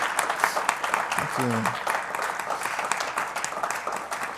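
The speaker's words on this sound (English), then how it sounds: "Give him a huge round of applause," Audience applause at a tech talk on automation, a dense crowd clapping steadily throughout, moderately loud, with a voice briefly speaking over it.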